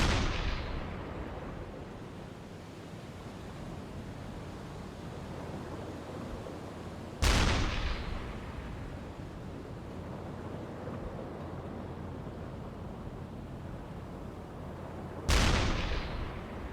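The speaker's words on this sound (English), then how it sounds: "seems to be a bloody submarine here firing at me" Deck gun of a submarine in the video game UBOAT firing at a freighter: two heavy booming blasts spaced several seconds apart over a constant roar of wind and sea.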